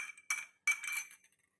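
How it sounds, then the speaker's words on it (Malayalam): A spoon clinks against a glass while stirring sugar into half a glass of warm water, two short bursts of bright ringing taps, close and quiet, with no talking. "1/2 ഗ്ലാസ് ചെറു ചൂടുള്ള വെള്ളത്തിലേക്ക് 1 സ്പൂണ് പഞ്ചസാര ഇതിട്ടിട്ട് നല്ലവണ്ണം ഒന്ന് ഇളക്കി"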